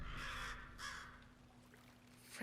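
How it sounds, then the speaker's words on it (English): Two harsh crow caws ring out close together in the video game Alan Wake 2, followed by fainter calls over a quiet ambient hum. "Freaking birds, man."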